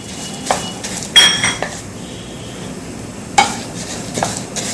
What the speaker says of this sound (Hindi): इसी तरह इसको चलाते हुए हमको गुलाबी होने तक इसको भून लेना है।